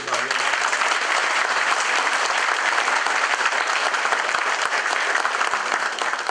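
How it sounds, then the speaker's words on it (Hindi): Steady, dense applause from an audience at an HPCL corporate gathering honouring a colleague, sustained at an even level throughout with some voices faintly underneath. "मैं चाहूँगा कि आप सब तालियां बजा के"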